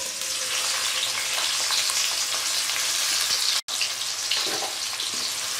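Onion and tomato fry over a medium flame in a pan, giving a steady, close sizzle with stirring scrapes that stays loud throughout, apart from one brief dropout near the middle.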